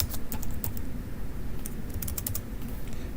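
Typing on a computer keyboard: quick irregular bursts of close, crisp key clicks over a low background hum, no voices.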